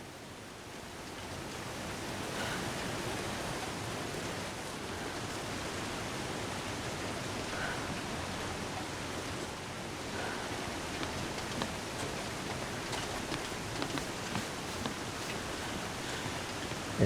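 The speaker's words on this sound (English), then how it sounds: "It's in front of the waterfall, so this is definitely the waterfall." A waterfall in the survival video game The Long Dark roars as a steady, dense wash of rushing water that holds at an even loudness for the whole stretch, with no voices.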